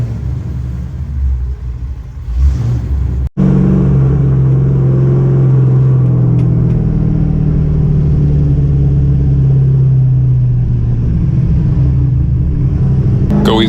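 A 500HP Pontiac GTO engine rumbling and revving on a wet track, a loud close low drone that rises and holds after a brief cut, with faint talk early on.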